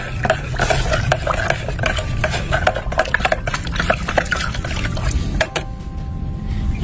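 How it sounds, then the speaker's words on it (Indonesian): Fertilizer is stirred into water until it dissolves, for feeding chili plants: a steady wet swishing with small clinks and trickles, close and continuous, ending in a quieter tail. "Ini langsung diaduk ya, sampai pupuknya benar-benar larut."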